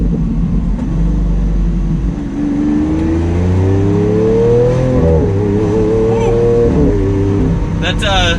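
A Lamborghini Aventador LP700-4 with a single-clutch gearbox, set to manual Corsa mode, revs loudly and close by. Its engine note climbs and falls in a few rising sweeps, then fades off near the end.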